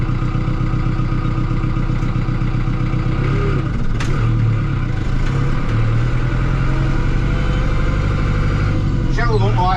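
A tractor engine runs steadily at close range on a farm in the North Yorkshire Dales, a continuous low rumble with faint clunks over it and no break.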